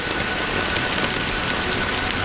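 Steady, dense rain pours down without a break, a constant close hiss of drops striking surfaces with no voices.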